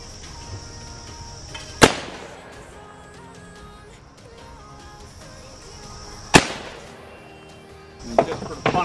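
A shotgun fires at sporting clay targets outdoors, with two sharp, loud reports several seconds apart over quiet background and a little talk near the end.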